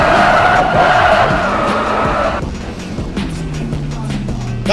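Race car in a Top Gear Imola challenge video game skids out of control at high speed, a loud tyre screech over engine roar that cuts off abruptly, leaving a lower steady engine drone.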